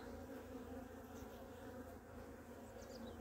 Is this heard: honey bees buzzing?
yes